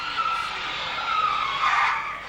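Herbie the Love Bug, the car numbered 53, squealing its tires at a theme park stage show, a moderately distant screech that swells and fades twice over a muffled crowd-like background.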